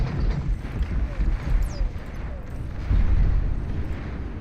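Cannon fire in the real-time strategy game Beyond All Reason: a dense run of deep, rumbling booms and thuds rolls on under talk, with a heavier burst of blasts near the end.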